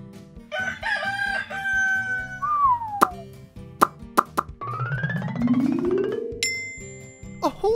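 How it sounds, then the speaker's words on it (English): A rooster crows loudly and clearly, mixed with bright plinking sound effects and a brief cheerful musical backing. "A rooster!"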